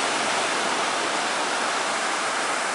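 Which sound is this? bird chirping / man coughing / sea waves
sea waves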